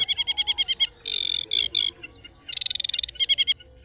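An aquatic warbler sings nearby in bursts of rapid, high, scratchy chattering notes and short trills, broken by brief pauses, alone against a quiet background.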